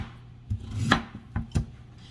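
Knife slicing through raw sweet potatoes for candied yams, a few separate crisp cuts spaced about a second apart, close and moderately loud, with no talking.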